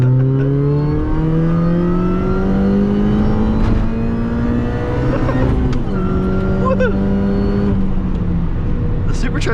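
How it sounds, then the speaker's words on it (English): A supercharged 370 WHP Mini Cooper S pulls hard through second gear on a backroad, its engine note and whine climbing steadily, loud and close inside the cabin, easing off briefly before rising again. "The supercharger sound is good."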